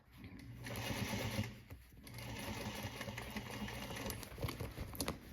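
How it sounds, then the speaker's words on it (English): A sewing machine with a size 90/14 jeans needle stitches over tucks on a denim back pocket, running in steady bursts with a brief pause near the middle, close and clear with no talking. "I'm just going to sew over these tucks"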